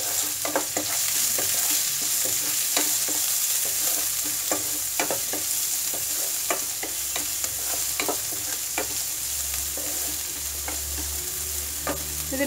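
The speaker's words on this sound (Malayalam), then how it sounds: "ഒരു സവാള വളരെ ചെറുതായിട്ട് അരിഞ്ഞത് നമുക്ക് ഇതിലേക്ക് ചേർക്കാം." Finely chopped onion frying in a pan, with a steady sizzling hiss throughout and frequent close clicks and scrapes of a spoon stirring against the pan.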